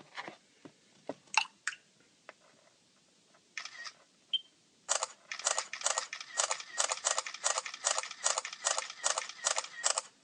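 Camera shutter sounds from a Samsung Galaxy S4 and an iPhone 5 during a speed comparison: a few scattered single clicks, then a rapid burst of sharp, evenly spaced shutter clicks, close and fairly crisp.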